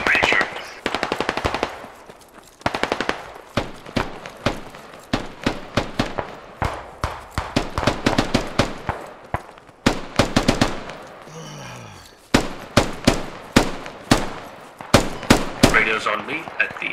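Rapid automatic gunfire in a military shooter video game, loud and nearly continuous in long bursts with brief pauses and scattered explosions.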